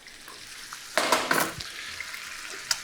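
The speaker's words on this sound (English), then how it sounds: "The lentils are now coming to the heat. Just work the pan." Lentils sizzle in a hot pan on the stove, a soft constant frying hiss broken by a few louder bursts of stirring and scraping as the pan is worked.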